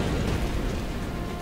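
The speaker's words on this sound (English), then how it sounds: "Splody car." A car explodes in the XCOM video game, a dense, sustained low boom and roar that fills the short stretch at steady loudness, with no voices over it.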